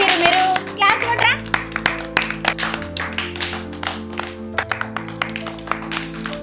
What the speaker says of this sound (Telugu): క్లాప్స్ కొట్రా.